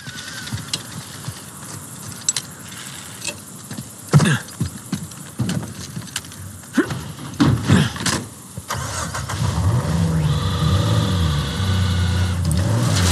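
Car engine from the video game Uncharted 4, a low rumbling drone that builds after scattered clicks and thumps, rising into a steady loud engine roar with shifting pitch near the end.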